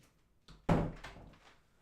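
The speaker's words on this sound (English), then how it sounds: "let me let my dog outside the door" A house door opens with a soft click, then swings shut with a firm thunk as a dog is let outside, a single close impact that fades into room quiet.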